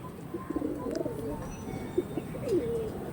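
Pigeons for sale coo in soft, low repeated calls close by, with a few brief chirps over a quiet background.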